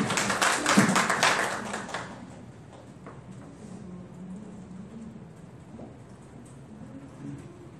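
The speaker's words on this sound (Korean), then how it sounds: "박수 맞아주시면 고맙겠습니다" A short burst of audience applause at the 2017 Korea Internet Governance Forum workshop lasts about two seconds, then fades into a quiet room with faint shuffling.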